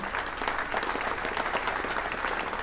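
An audience at a sailing race prize-giving claps steadily and densely at moderate volume, without a break.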